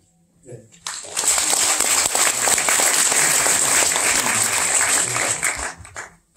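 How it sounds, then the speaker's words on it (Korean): After a brief quiet moment, a large crowd breaks into vigorous, sustained applause at the inauguration of the Gangdong Cultural Foundation's new head as board members are introduced. The clapping holds steady for several seconds, then tapers off, with a voice briefly heard. "한 분 한 분 소개할 때마다 큰 박수를 부탁드립니다."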